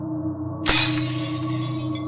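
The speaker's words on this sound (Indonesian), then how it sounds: "Satu tabung reaksi jatuh sendiri." A glass test tube drops and shatters in one sudden, sharp crash with a brief tinkling tail, set against a steady low droning background with no speech.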